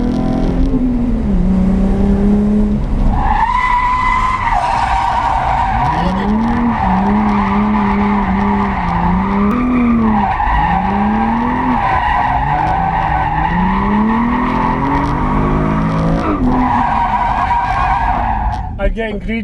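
A Nissan 350Z drift car skids hard through full-throttle transitions, its engine howling at sustained high revs with long tire squeal that shifts pitch as the car swings, loud and close for the whole stretch.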